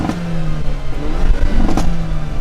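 A 2022 Hyundai Elantra N engine revs hard, a loud, steady mechanical drone that swells slightly as it climbs, heard close with no talking.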